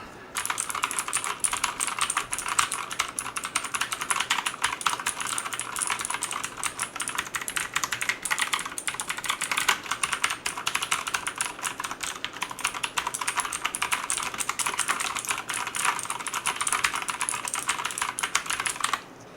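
Steady, rapid clicky keystrokes from an ABKO Hacker K8500 mechanical keyboard with Outemu blue switches, typed continuously at close range with no pauses or voices.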